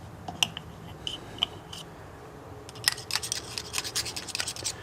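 A small brush dabs thread compound into the threads of parts on a 1964 Ford F100 pickup, giving soft, quiet scratchy bristle strokes, a few spaced taps early and then a denser run of brushing near and faint.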